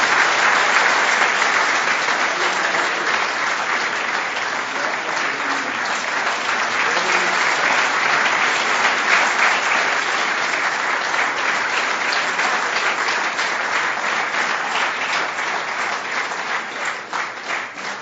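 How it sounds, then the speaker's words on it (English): A large audience applauds at the close of an inspirational spiritual talk: loud, dense, continuous clapping that holds steady for the full length. "let us convey our heartfelt gratitude to revered Swamiji with a very big round of applause"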